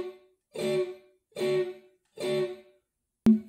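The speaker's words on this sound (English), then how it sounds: "I'm actually dampening again by letting off with my left hand. So it sounds like this with the upstrokes." Electric blues guitar plays a shuffle rhythm of three evenly spaced chord strokes. Each chord is clipped short by left-hand muting on the upstrokes, with silence between strokes and a sharp final hit.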